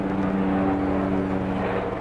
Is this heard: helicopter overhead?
yes